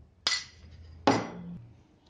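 A steel plate set down and handled in a home kitchen, giving two sharp metallic clinks about a second apart, each ringing briefly before fading, with no talk.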